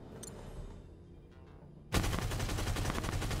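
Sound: minigun firing in the video game Avatar Reckoning

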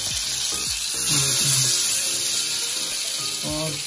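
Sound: marinated tawa chicken sizzling in butter on griddle

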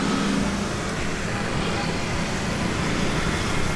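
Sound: street traffic in Labuan Bajo town, Flores

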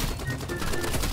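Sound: gunshots in Roblox Rivals video game

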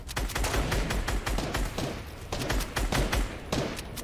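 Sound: gunshots in a Floor is Lava video game match

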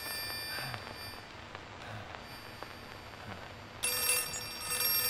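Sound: phone ringing in the video game Outlast 2

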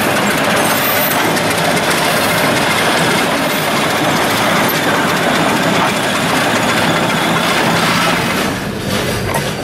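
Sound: freight train of gondola cars arriving at a quarry

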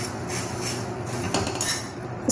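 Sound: stirring and roasting puffed rice in a pan

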